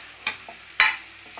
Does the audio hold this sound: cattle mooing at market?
no